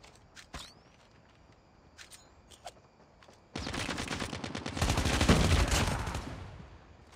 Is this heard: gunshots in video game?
yes